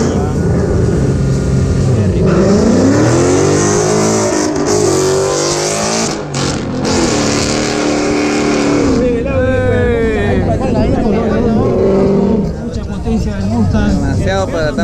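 An Audi and a Mustang launching side by side in a legal 10-second-class drag race, engines roaring and shifting through gears with loud revving sweeps while an announcer talks over them throughout.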